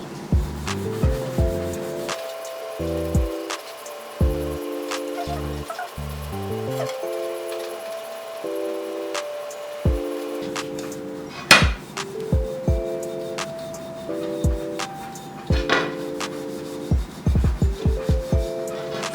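Scrubbing a limescale stain with a sponge and squeezed-on descaling cleaner: repeated rubbing strokes with a few sharp knocks, close by and moderately loud, under steady melodic background music.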